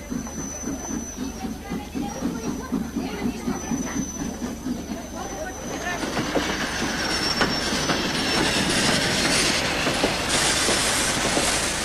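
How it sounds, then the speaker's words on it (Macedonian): A train rolls in to the first platform of a station in 1960s Macedonia, with rhythmic wheel clatter giving way to loud, sustained metallic squealing of wheels as it slows, fairly close. "Возот од Горна џума е пристига на првиот колосек."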